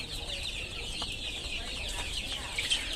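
A native desi chicken raised for meat clucks softly and repeatedly close by, over a faint, steady background hum.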